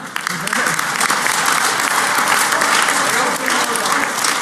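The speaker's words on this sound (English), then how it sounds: "Applaud now." Loud, dense applause from a large hacker-conference crowd at an awards ceremony, a steady roar of clapping that swells quickly and holds throughout.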